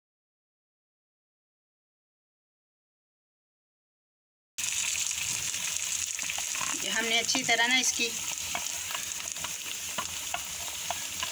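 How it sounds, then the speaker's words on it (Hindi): Sliced potatoes fry over low heat in a frying pan, giving a steady sizzle with scraping stir strokes after a silent start; a voice talks briefly over the cooking. "ये सारे आलू मैंने बीज लगा दिए फ्राई पैन में, अब इसे 2 मिनट के लिए हमने फ्राई करना है हल्की आंच पे"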